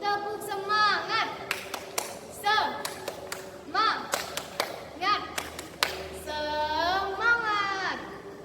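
Children at an Indonesian Islamic elementary school event join in a rhythmic spirit clap, sharp clap bursts falling into patterned beats mixed with chanted voices, loud and close.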